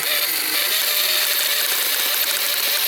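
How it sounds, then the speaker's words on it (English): The motor of an old Coleman vehicle with a suspected ring-and-pinion or locker fault runs steadily. It makes a loud, even whir with a constant hiss and no pauses. "Listen to that motor too."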